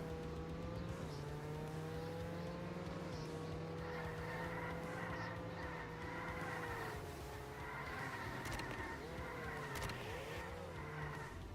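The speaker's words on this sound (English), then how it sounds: "That's drifting." A car drifting in a video game, its engine droning and revving steadily while tires squeal and skid in repeated stretches, fairly faint and continuous.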